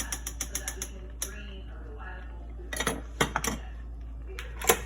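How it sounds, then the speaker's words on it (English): Spoon scraping and clinking against a pot as butter is stirred into a peanut patty candy mixture, quick light taps at first and then heavier clattering strokes, close by, with a steady low hum underneath. "So then I'm going to stir in the butter."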